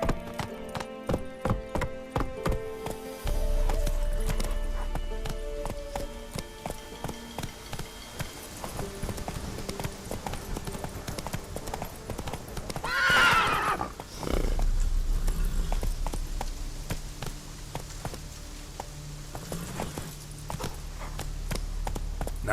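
Roach, a horse in The Witcher 3, gallops in a rapid clip-clop rhythm, lets out a shrill whinny midway, then the hoofbeats carry on steadily.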